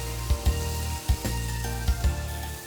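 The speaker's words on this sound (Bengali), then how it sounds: "টি-বোনটা আমি গ্রিলে ছেড়ে দেব।" A T-bone steak sizzles on an oiled grill. A close, steady hiss is punctuated by several rhythmic low thumps, with no talking.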